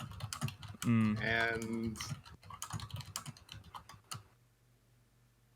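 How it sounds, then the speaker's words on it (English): Rapid typing on a computer keyboard clatters close by during a Final Fantasy XIV game-show stream, running under overlapping talk and a loud voice for about four seconds before stopping, leaving only faint background hum. "Who's typing?"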